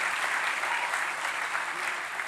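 Audience at a Brighton Ruby conference talk applauding, a dense, steady wash of clapping from a sizable crowd, fairly close and continuous for a couple of seconds with no talking over it.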